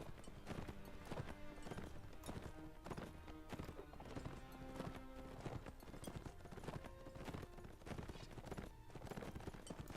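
Rapid clip-clop of many horse hooves galloping in the game Mount and Blade: Warband, steady and busy, with an occasional whinny in a dense, continuous mix.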